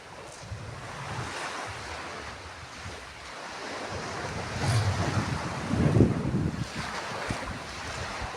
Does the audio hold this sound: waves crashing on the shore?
yes